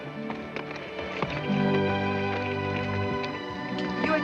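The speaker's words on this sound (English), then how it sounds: "You expect me to ride this horse?" A horse in a 1959 Western ranch scene clops its hooves in a light, uneven rhythm at moderate distance, under a sustained musical background.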